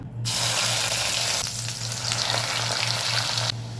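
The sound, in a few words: ground masala paste frying in hot oil in a kadhai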